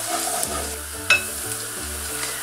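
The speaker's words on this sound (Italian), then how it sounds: "andiamo ad aggiungere per prima cosa l'aglio e lasciamolo dorare qualche secondo" Garlic frying in hot oil in a pan, a steady sizzle with light stirring, heard alongside background music.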